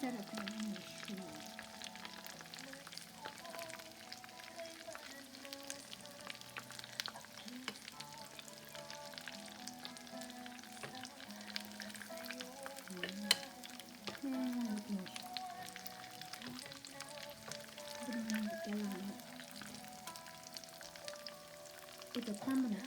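Mushroom nuggets fry and brown in a pan with a steady, dense sizzle and crackle, broken by occasional stirring scrapes, close and continuous throughout.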